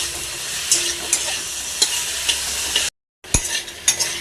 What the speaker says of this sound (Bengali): হালকা মশলা দিয়ে রান্না করব ভিন্ডি